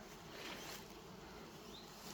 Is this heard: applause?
no